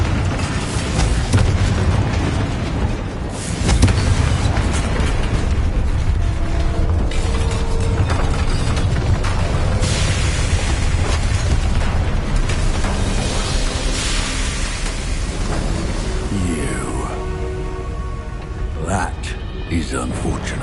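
Spell blasts and explosive booms from the Confringo fire spell in Hogwarts Legacy, a PS5 game, burst repeatedly through a dense, continuous wash of combat effects, music and game voices.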